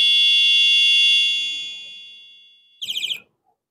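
An electric bicycle horn buzzer gives a loud, steady high-pitched tone that fades away, followed by a short burst of warbling, pulsing beeps in a changed tone.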